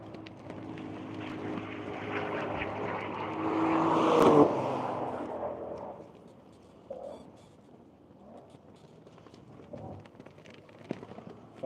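A Michelin-sponsored Cadillac race car sweeps past, its engine swelling to a loud peak about four seconds in and then fading away, leaving faint distant noises afterward.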